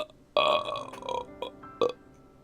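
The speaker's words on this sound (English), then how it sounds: "Right after that glorious burp." Long, loud, close burp in the visual novel game Asagao Academy: Normal Boots Club, with a warbling tone that trails off and then one short, sharp burp after it.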